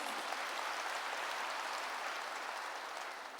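A congregation claps at a church service, a dense, steady roar of many hands held at even loudness throughout, easing slightly at the very end.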